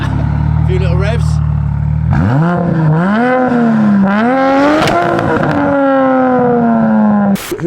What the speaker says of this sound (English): A few little revs.